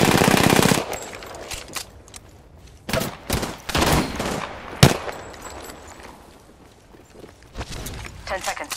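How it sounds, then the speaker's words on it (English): Bursts of automatic gunfire in the Apex Legends video game, sharp repeated shots hitting the player in several clusters with footsteps between, while a voice talks over the action. "They spotted me. I'm taking shots."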